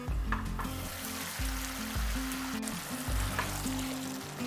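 Spice paste for a fish curry frying in a pan, a close, constant sizzle and bubbling with a low rumbling undertone throughout.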